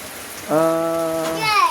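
Steady rain hisses outdoors during coffee picking, a soft continuous wash of noise with a brief high-pitched voice rising over it partway through.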